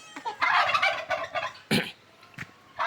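A turkey on a free-range farm gobbles in a loud rapid burst, followed by a couple of short sharp calls and quieter bird sounds, close by with no talking.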